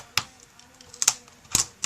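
Keyboard of an HP DV4 laptop being pried and popped up from its frame during disassembly: three or four sharp plastic clicks and snaps spaced apart, close and fairly quiet, with no talking.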